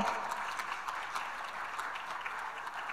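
An audience applauds an award at a mining-technology event, with dense, even clapping that holds steady and fairly close for the whole stretch.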